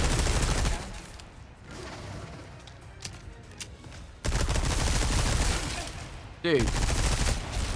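TMP submachine gun firing in the Resident Evil 4 Remake, Separate Ways mode, heard as loud, rapid sustained bursts broken by a quieter pause, with a player speaking briefly.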